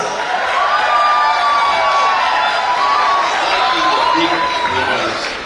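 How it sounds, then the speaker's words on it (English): A large audience at a hospital launch event cheers and shouts continuously, loud and sustained, with a few raised voices standing out over the roar. "You can do better with a round of applause, everyone. Yeah, make some noise."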